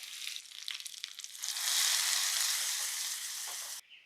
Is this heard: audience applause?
no